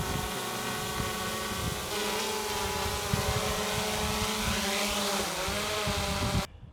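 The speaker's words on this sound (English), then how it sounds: "So Julian just hit the auto takeoff, which went up to 5 feet, I think. Yeah. And hovers, and then auto land, which immediately lands the drone as soon as possible" A GoPro Karma drone lifts off automatically to about five feet, hovers and lands, its steady whining rotor buzz holding loud and close, shifting pitch slightly before cutting off abruptly at the end.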